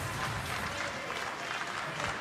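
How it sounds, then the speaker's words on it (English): Applause and crowd noise fill a short-track speed skating arena at a World Tour event in Tilburg, a steady wash of clapping and cheering throughout, with talk mixed in. "Clap from the coach, Niels Kirschult."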